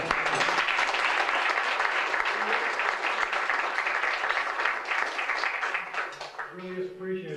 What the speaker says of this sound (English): I'd like to give a round of applause to those founding fathers